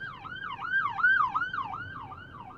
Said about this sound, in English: there's an ambulance or something coming by here.